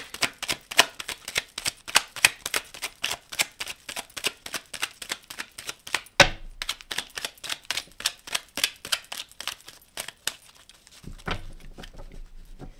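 Tarot cards shuffled by hand in a rapid, steady run of crisp riffling flutters, close and loud, with a short break midway and a softer, duller rustle near the end.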